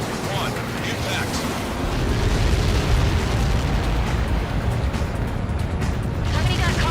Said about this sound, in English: Somebody got caught in that explosion.